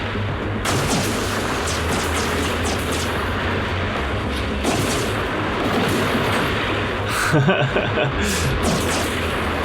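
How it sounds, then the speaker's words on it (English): A turret in the colony-building game Industries of Titan fires at rebels in rapid bursts of dense, booming shots. Layered impacts and explosions sit over a constant low rumble, and a voice talks over the barrage. "Go, little turret, go!"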